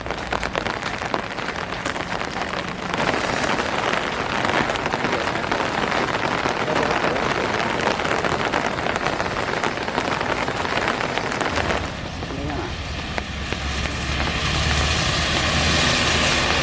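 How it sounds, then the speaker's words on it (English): Steady heavy rain pours onto a street in Seoul, a dense unbroken hiss with a deeper rumble of passing traffic joining near the end. "It's a little too rainy for us right now."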